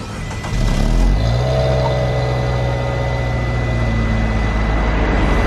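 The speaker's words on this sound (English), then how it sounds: "it's time for a cold start with this very, very fine four-cylinder engine" A Fiat 500 four-cylinder engine catches on a cold start, then settles into a steady, fairly loud idle with a slightly elevated hum.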